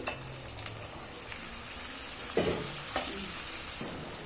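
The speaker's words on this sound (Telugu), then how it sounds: "ముందుగా బాండీలోకి ఆయిల్ వేసుకుని హీట్ అయిన తర్వాత మిర్చి ఉల్లిపాయలు కూడా వేసుకుని ఎర్రగా వేయించుకోవాలి" Onions and chillies frying in hot oil in a kadai, a quiet steady sizzle broken by a few scraping stirs of a spoon, close by and without speech.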